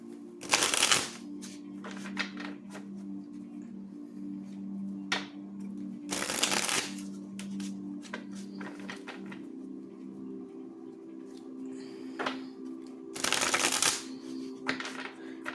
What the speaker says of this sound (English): let's go ahead and shuffle up the cards and begin